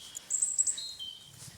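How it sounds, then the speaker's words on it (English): A bird sings outdoors in spring in the countryside, a few brief high chirping phrases, fairly faint and distant, over quiet ambient background. "Can you hear that bird, guys?"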